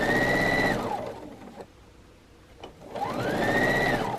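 A sewing machine stitches quilt block pieces, motor whirring up to speed, pausing briefly, then running again, loud and close with no talk.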